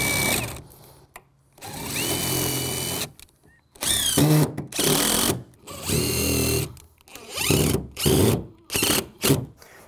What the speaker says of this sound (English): while I'm drilling my hole.